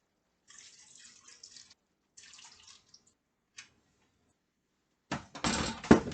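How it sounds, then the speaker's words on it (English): Water is poured into a filter in a kitchen, heard as short bursts of trickling and dripping with brief pauses between, ending in a louder, fuller splash of pouring. "I'm gonna put some more water to filter."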